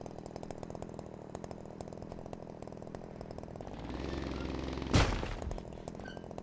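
Bulldog engines idle in the Trailmakers video game, a rapid rough pulsing rumble that runs steadily throughout, swelling briefly near the end with a sharp burst of noise.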